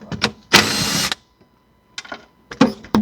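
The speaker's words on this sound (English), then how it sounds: "So we're just going to take these out, the two pivot bolts" Power tool removing seat pivot bolts from a 1986 Porsche 944 Turbo, heard in short bursts: one loud half-second whirring run between brief clicks and clatters of hardware, close and otherwise quiet.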